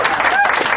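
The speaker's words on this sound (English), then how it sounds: "I'm going to give myself a round of applause." A brief burst of dense, loud hand clapping from a single person at a live racing-game stream, close to the microphone with a voice mixed in.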